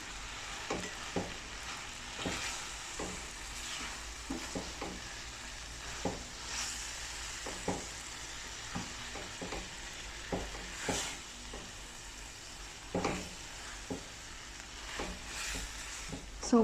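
Chili sauce mixture stirred in a hot pan, a soft continuous sizzle broken by repeated spoon scrapes and knocks at an uneven pace, close but fairly quiet, with no talking.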